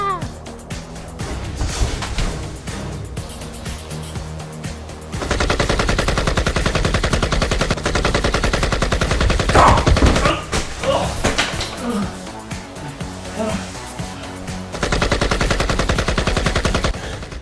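Heavy, sustained machine-gun fire from someone wielding a big gun down a hallway, loud rapid bursts in long stretches with a person talking over it at times.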